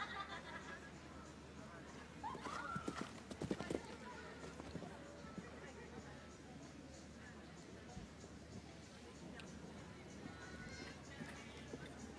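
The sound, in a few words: horse hooves and neighing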